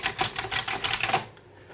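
Rapid clacking keystrokes on a Commodore 64 keyboard during a repair, a quick run of about a dozen clicks that stops abruptly, close and fairly quiet.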